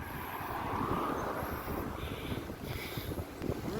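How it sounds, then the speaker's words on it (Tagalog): Steady gusting wind buffeting the microphone outdoors in Daraitan, Tanay, Rizal, a continuous low roar with rushing noise throughout. "Maambon-ambon ng kaunti na mahangin"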